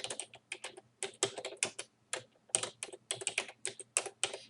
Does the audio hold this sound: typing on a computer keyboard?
yes